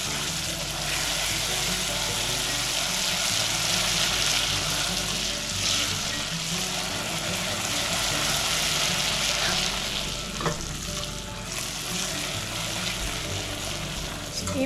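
Butter sizzling and foaming in melted sugar while being whisked, a steady dense frying hiss that continues throughout with light stirring clatter and soft talk underneath.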